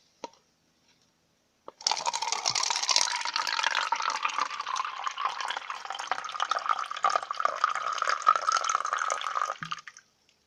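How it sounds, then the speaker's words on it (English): Water poured from a Deku-decorated water bottle into a cup, a steady close splashing trickle lasting about eight seconds before stopping, with no talking. "I used that to pour some of the water in the cup."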